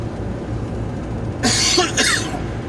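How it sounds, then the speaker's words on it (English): A single harsh cough bursts out close by, followed by a second shorter cough, over a steady low background rumble. "excuse me, I had to cough"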